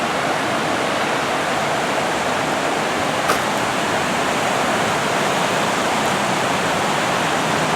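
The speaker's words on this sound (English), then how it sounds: "how pretty the waterfalls are" A loud, constant rushing roar of waterfalls along the Appalachian Trail, broad and unbroken, heard from close by.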